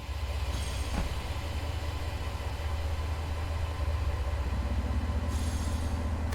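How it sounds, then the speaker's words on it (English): DB BR 363 shunting locomotive in the Train Sim World video game, a steady rumbling engine drone with the hiss of the train brake releasing, continuous and close, with a brief higher squeal near the start and no talking. "train brake's releasing now that we're starting to put some power on"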